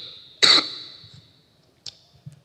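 A single sharp cough rings out nearby, followed by a fainter short cough a moment later in an otherwise quiet room.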